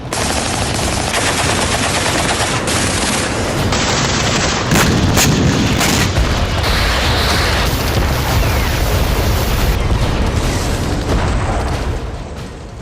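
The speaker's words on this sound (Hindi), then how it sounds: "यूक्रेन की ईस्टर्न फ्रंट लाइन से लेकर दर्जनों शहरों पर रूस का बारूद बरसता रहा" Russian artillery and rapid gunfire pound Ukraine's eastern front line, with dense bursts and heavy booms overlapping in a loud, continuous barrage.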